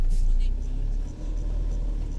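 A motorhome stuck in sand idles with a steady low engine rumble while trying to drive forward, the drone dipping briefly midway, with people talking in the background.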